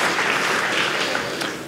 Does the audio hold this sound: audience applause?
yes